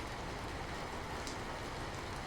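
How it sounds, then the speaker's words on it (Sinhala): Steady rain falls in an even, unbroken hiss, moderate and continuous with no speech or other distinct sounds above it. "උදේ ඉඳන් එක දිගට තාලෙකට වගේ වැස්ස වැටුණා"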